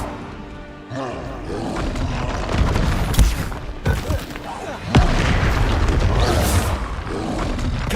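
Loud fiery blasts from the Confringo explosion spell in Hogwarts Legacy, several booming bursts striking in quick succession over a dense roar of battle noise, with a voice talking underneath.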